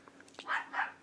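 A dog barks twice in quick succession, faint and somewhat distant, each bark short and muffled against a quiet room.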